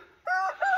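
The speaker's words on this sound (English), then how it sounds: "Got my back turned to the big rooster, and he decided he was gonna try to play big chicken on me." A large rooster crows nearby, loud and close, in two bright harmonic bursts within under a second, with no talking.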